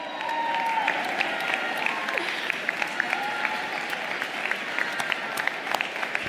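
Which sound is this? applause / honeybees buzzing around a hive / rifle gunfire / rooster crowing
applause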